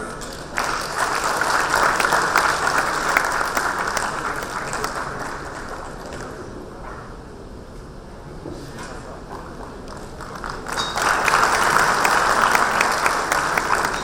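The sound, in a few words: audience applause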